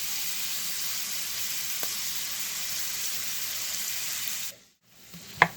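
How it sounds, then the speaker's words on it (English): Butter melting in a pan for biscuits and gravy gives a steady, close hiss of sizzling that runs for several seconds, then cuts out briefly before a light clink and faint sizzle return. "just keeping melting the butter"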